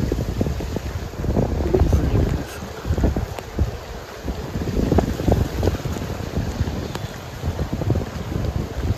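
Rain pours steadily on a hillside road near Araku, a dense, even hiss with low wind buffeting underneath and occasional heavier gusts, sustained for the whole stretch.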